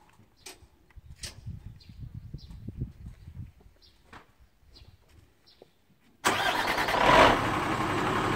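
A Mega Truck Euro 6 diesel engine started by remote starter roars to life after about six seconds of quiet, faint ambient chirps, then holds a loud, steady idle to the end.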